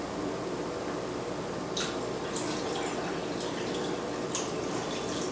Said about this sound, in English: So we're gonna pour our cold water.